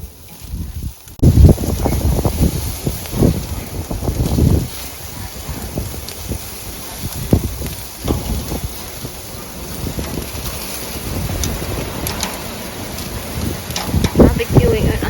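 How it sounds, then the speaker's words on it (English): Strong gusts roar on a winter day outdoors beside a barbecue grill, rumbling against the microphone in uneven surges with rustling leaves, heard alone without talk. "Barbecuing on a super windy day."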